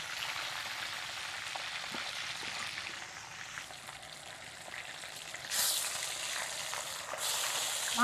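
Pieces of desi chicken frying in the fat they release, a soft continuous crackling sizzle heard close, swelling louder in bursts toward the end, with no voices.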